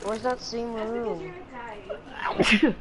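During a Rainbow Six gaming session, a person speaks and then lets out a single sharp, close sneeze near the end.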